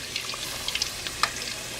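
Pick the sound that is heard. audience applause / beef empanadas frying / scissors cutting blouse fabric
beef empanadas frying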